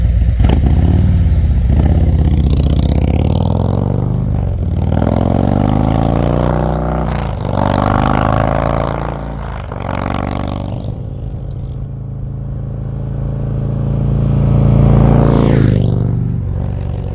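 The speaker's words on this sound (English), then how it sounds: "the difference in the way the bike sounds with the one pipe as compared to the two" A 2024 Harley-Davidson Road Glide on its stock exhaust converted to a 2-into-1 pipe accelerates through several gears, each rising roar cut by a shift, then eases off and swells again, loud and close, with no talk.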